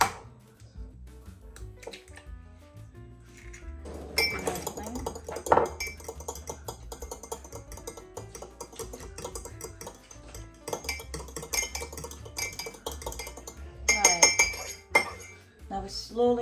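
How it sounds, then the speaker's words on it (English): An egg lightly beaten in a bowl with a utensil while making homemade pumpkin pie: quick runs of light clinking and tapping against the bowl, coming in bursts, with a person talking over parts of it. "Now, lightly beat an egg."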